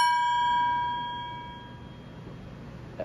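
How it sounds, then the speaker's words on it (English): A mini gong from a percussion rig is struck once, ringing bright and metallic with a clear shimmering tone that slowly decays, close and alone, followed by a faint small knock near the end. "And this is a mini gong."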